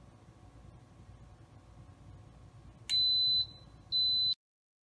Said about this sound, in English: the Instant Pot will beep